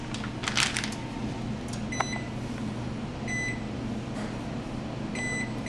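An oven timer beeps a few short, clear electronic tones while Uptown brownies bake at 325 degrees, over a steady kitchen hum.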